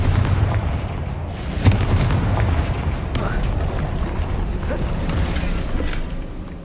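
A Confringo explosive spell goes off in the video game Hogwarts Legacy, with booming blasts and rumbling low impacts over a dense game soundscape, while a voice speaks spell names over it.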